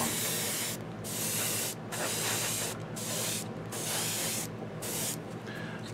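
A compressor-powered airbrush sprays paint for skin tones on a miniature, a steady hiss broken by several short pauses as the trigger is released and pressed again, close and even, with no talk.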